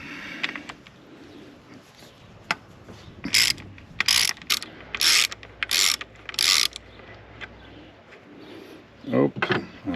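Ratchet fitted with a 19 mm socket clicks in quick bursts while a fuel filter is loosened on a Mercedes W210 E290, several crisp ratcheting runs close up with pauses between, faint background noise throughout.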